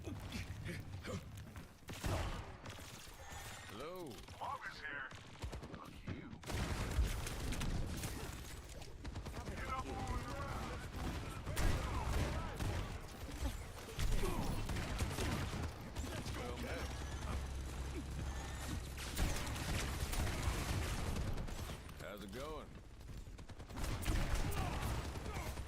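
Gunfire from a competitive Overwatch match, a dense, continuous spray of shots and impacts running throughout over game music and effects, with a commentator talking over much of it.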